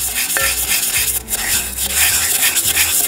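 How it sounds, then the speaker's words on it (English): A scrubby pad scrubs the inside of a rusty metal piece outdoors after a vinegar spray, giving continuous close, loud rubbing and rasping strokes with brief pauses. "give it a good scrubbing on the inside"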